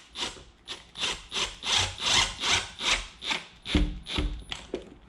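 Screw driven through a window blind bracket into a wooden frame, heard close as a regular train of about a dozen raspy, grinding turns with short pauses, clear and without talk.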